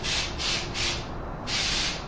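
Aerosol spray can spraying paint in short bursts, three quick hissing sprays followed by a longer one, close and clear with no talking.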